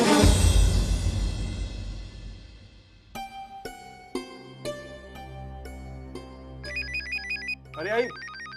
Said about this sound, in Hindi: अरे आई, फोन देखना किसका फोन है?